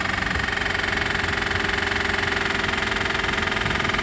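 Damaged 2020 Lexus GS F with a bent front end and undercarriage, its engine running with a steady, rough, rapidly pulsing drone that carries a knocking vibration, close and constant throughout.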